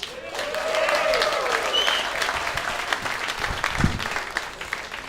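Applause and cheering from a comedy club crowd as a comedian is introduced at an open mic night, steady and full for the whole stretch, with no one talking over it.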